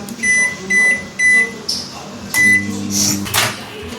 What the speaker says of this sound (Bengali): এইটাকে এবার এই যে মাইক্রোওয়েভ দিয়ে